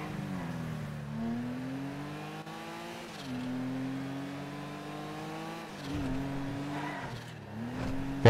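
A video game car engine revs and races continuously, its pitch climbing and dropping as gears shift, with a steady loud drone and a brief squeal-like burst near the end.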